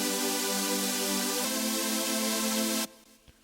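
Layered dubstep synth chord stack built in FL Studio with a little delay, a sustained bright chord that shifts partway through, then cuts off abruptly and leaves a short faint delay tail.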